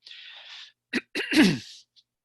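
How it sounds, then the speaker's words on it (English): Someone clears their throat during an online meeting with a few rough, breathy bursts and a low grunt, close and fairly loud, with no talking. "by clearing my throat here"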